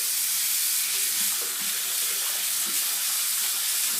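A bathroom tap runs steadily into a sink while a toothbrush is rinsed under it, a close, continuous hiss of flowing water with faint splashing and no voices.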